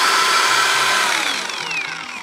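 An Einhell CE-CP 18/180 Li E cordless sander-polisher spins at its top 3000 rpm, a loud steady whine with a slowly falling pitch that eases off slightly toward the end, with no talk.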